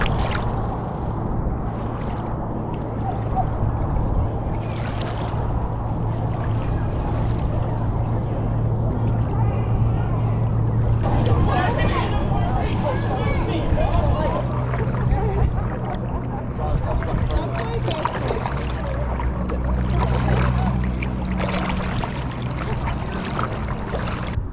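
Paddling a small boat on the River Hamble: gentle paddle strokes and water splashing and sloshing close by, with wind noise across the microphone and faint movement sounds.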